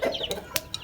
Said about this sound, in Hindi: ये हमारा जावा मुर्गा है